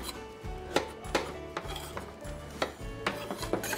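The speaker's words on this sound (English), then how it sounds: "we're just going to give that a bit of a stir" A utensil scrapes and knocks against a pot in an irregular rhythm, close by, with soft clinks between the strokes.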